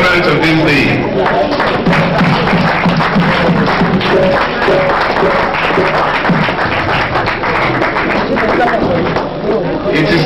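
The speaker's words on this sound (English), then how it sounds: "giving a grand applause to the celebrants of this day" Guests at a 50th birthday celebration applaud the celebrants, a loud, dense and continuous burst of many hands, with crowd babble mixed in throughout.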